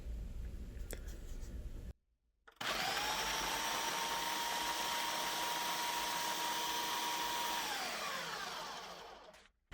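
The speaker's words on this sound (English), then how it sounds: "see, I told you my mixer was old." An old electric stand mixer whirs steadily while mixing dough with a tablespoon of molasses, a loud continuous motor drone with a rattle that starts after a brief stop and runs several seconds before winding down.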